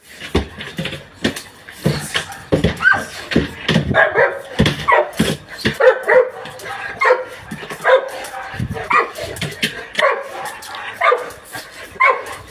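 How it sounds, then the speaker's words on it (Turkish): A search and rescue dog barks and yips over and over after finding a live person, loud and close, with short whimpers between barks and people talking over them. "Bulduğumuz zaman köpeğimiz havluyla tepki veriyor ve oyuncağını alıyor."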